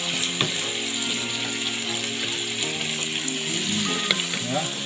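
Chili sizzles and fries in a hot pan, a steady close crackle with occasional clicks and scrapes of stirring, no one talking.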